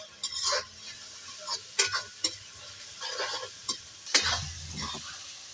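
Onion, tomato and chili cook in a pan for poha-potato with a soft sizzle, while a utensil gives intermittent stirring scrapes and clinks. It is close and fairly quiet, with no talking.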